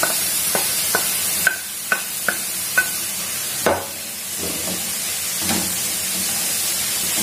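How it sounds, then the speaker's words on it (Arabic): Zucchini, red pepper and onion sauté in a pan: a handful of sharp spatula knocks come first, then a continuous soft sizzle and hiss fills the rest, close and moderately loud. "غادي نضيفهم على هذه البصله هذه ونشحر كلشي"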